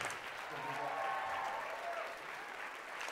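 Audience at a jazz orchestra concert applauds a musician with a dense, steady wash of clapping that holds evenly for the whole stretch, with faint whistles or cheers rising over it.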